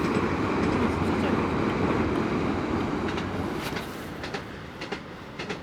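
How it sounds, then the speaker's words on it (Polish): Train passing by outdoors near a fishing spot, a loud steady rumble of rolling wagons with clickety-clack wheel rhythm that slowly fades toward the end as a few clicks and knocks stand out. "Pociąg jedzie, więc..."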